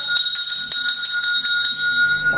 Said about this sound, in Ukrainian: Оцей дзвінок лунав для вас.